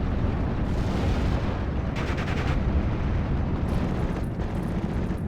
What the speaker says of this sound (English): I'm going to let the Grenadier here just engage that with its machine gun.